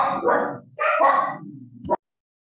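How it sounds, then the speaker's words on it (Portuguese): Several agitated dogs bark in short, sharp bursts, close and loud, ending abruptly after two seconds. "Tem um cachorro que está bravo. Tem mais de um bravo."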